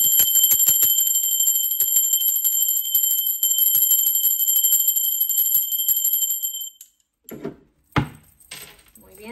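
A ringing bell sustains a bright shimmering tone with rapid rhythmic strikes for several seconds, then fades out and gives way to a few faint knocks and brief handling noises.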